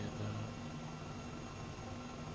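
An Airbus H135 helicopter in Microsoft Flight Simulator 2020 gives off a steady, dense rotor and turbine drone. It stays constant and fairly loud throughout, with no speech.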